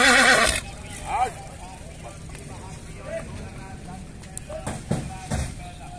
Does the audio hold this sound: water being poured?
no